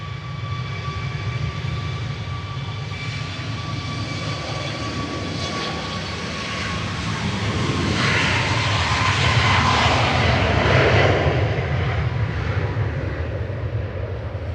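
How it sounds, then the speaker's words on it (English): Ryanair jet airliner at Manchester Airport, a loud continuous engine roar with a steady whine that swells toward the middle as the aircraft passes close, heard alone without voices. "Ryanair to Bucharest with flight 1271."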